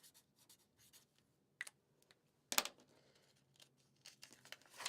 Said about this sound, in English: So let me write your name here on the sticky note, Jane.